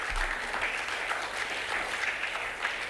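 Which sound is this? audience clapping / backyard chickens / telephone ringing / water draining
audience clapping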